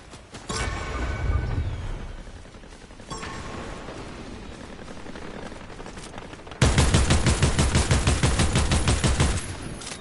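Fortnite gunfire: scattered weapon shots and bursts early on, then a loud, rapid automatic volley near the end, heard alone without talk.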